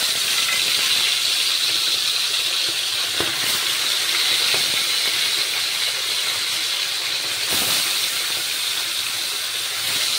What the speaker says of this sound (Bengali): তেলটা তো গরম হয়ে গেছে, এবার এক এক করে মাছ ছেড়ে দেব